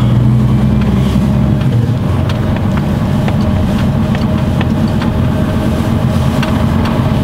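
A car engine hums steadily while driving, a continuous low rumble with road noise and occasional light clicks and knocks, close and fairly loud with no talking.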